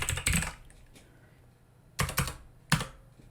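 Code being typed on a computer keyboard for a Discord bot dashboard: a quick burst of close keystrokes, a pause, then two more short bursts of clicking.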